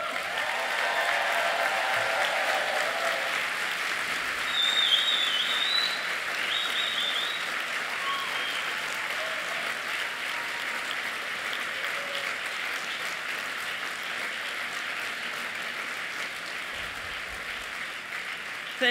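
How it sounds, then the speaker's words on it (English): A large audience at a university management graduation ceremony gives a sustained round of applause, dense and even clapping from a big hall that holds steady for nearly twenty seconds, with brief cheers early on. "you're going to give a big round of applause to the people who've been rooting for you"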